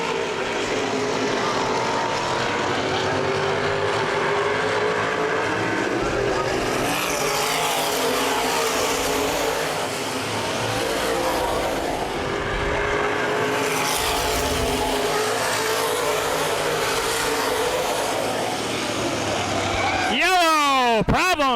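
Open wheel modified race cars roar around Baer Field Speedway in a steady, loud wash of engine noise with an announcer talking over it, ending with a car sweeping close past with a sharp rising-then-falling pitch.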